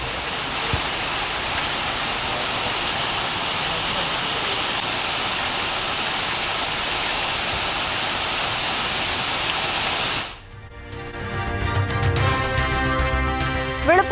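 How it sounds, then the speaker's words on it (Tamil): Summer rain falls steadily as a dense, even hiss for about ten seconds, then cuts off abruptly and gives way to a different, tonal sound. "தமிழ்நாட்டின் பல்வேறு பகுதிகளிலும் பெய்த கோடை மழை."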